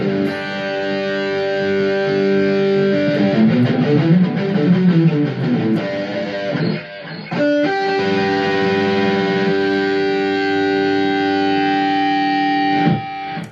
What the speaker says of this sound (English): we will start in the British position on the distorted or noisy channel.